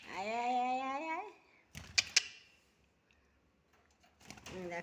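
Pet birds at home coo and call, opening with a drawn-out tonal coo. A few sharp clicks and a stretch of near silence follow, then faint activity returns at the end.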